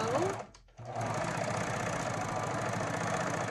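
A Baby Lock Vibrant serger sews on scrap fabric. After a brief pause it settles into a loud, steady whirring drone with a rapid mechanical chatter, heard up close with no talking.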